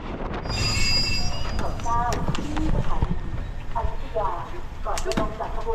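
A passenger train rolls along rails in Thailand, with rumbling wheels, rhythmic clacks and repeated metallic squeals heard from onboard, mixed with nearby voices and cabin noise.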